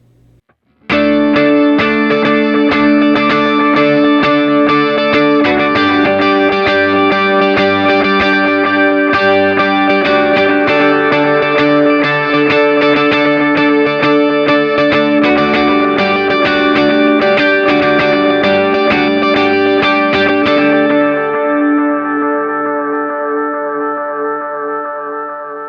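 Driven electric guitar with raised gain playing a sustained chorus chord part with rhythmic repeating dotted-eighth delay echoes, loud and continuous, then ringing out at the end; no voices.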